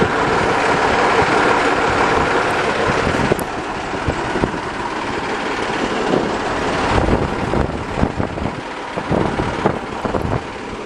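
Kolos SK-6A combine harvester working a sunflower field, with a T-150K tractor nearby; a steady heavy engine drone labours continuously under wind buffeting on the microphone, loud and close, no talk.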